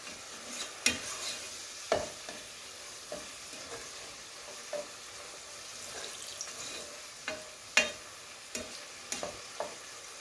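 Dumplings fry in a pot of oil for a salt fish breakfast, giving a steady soft sizzle broken by scattered sharp crackles and pops at close range, with no talking.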